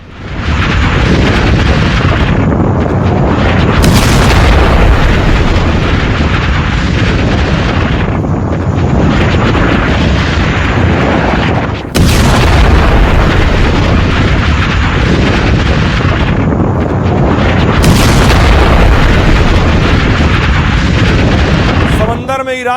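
Explosion of an Iranian ship struck by a US missile attack, heard as loud, sustained broadband roaring and rumbling with bursts and wind buffeting that runs throughout, broken by a sharp cut and a renewed blast.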